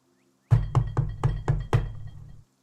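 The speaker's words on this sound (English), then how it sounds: "you hear a knock" Six firm knocks on a door, evenly spaced and close, played as a sound effect during a tabletop role-playing game session, with no talk over them.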